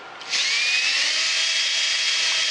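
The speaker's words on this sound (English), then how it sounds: "Then I drilled it, held everything good and steady." A small drill bit starts with a brief click and then whines steadily at high speed, boring a hole in cedar wood for a phone and iPad holder, close and loud without talk.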